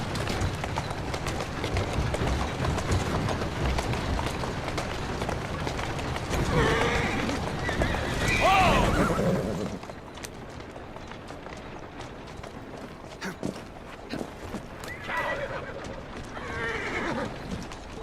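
A horse in the video game Assassin's Creed Syndicate whinnies loudly with a rising, shaky call, then a second fainter neigh follows over a steady background rumble of hooves and ambience.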